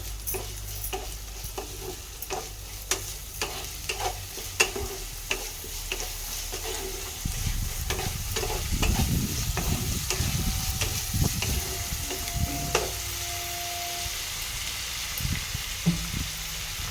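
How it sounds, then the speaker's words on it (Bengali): Chana dal with sugar stirred and fried in a pan gives a steady sizzle with repeated scraping and clinking of a spoon, the frying growing louder and denser partway through, close and alone without talk. "এবার এটাকে আমি ভালো করে কষিয়ে নেব।"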